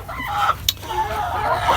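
Chickens in a large 10 by 30 foot custom backyard coop cluck and squawk close by, with a sharp rising call partway through over a low background rumble.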